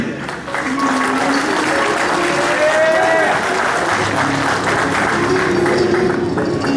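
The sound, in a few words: audience applause for the performers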